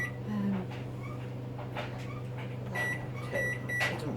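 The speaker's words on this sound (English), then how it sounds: "I'll pop that in the microwave just to warm." Kitchen microwave oven warming a jug, a steady low hum running throughout with faint clinks and quiet household sounds over it.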